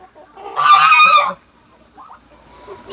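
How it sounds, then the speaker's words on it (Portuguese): African geese honking loudly in a farmyard, a dense burst of harsh nasal calls lasting under a second, followed by quieter scattered noises. "E esse ganso aí, que raça que são? Eles são africanos."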